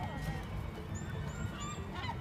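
Seaside gulls giving a few faint, thin calls above a steady outdoor wind-like rumble, heard at a distance with no talking.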